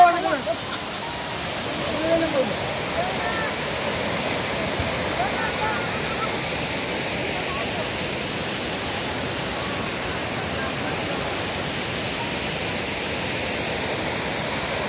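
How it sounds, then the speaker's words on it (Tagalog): Water rushes steadily at Madongan Dam in San Marcelino, Ilocos Norte, a loud, continuous broadband roar like a waterfall that fills the whole span without breaks. "Ayan, yan ang Mandongan Dam ng San Marcelino, Ilocos Norte."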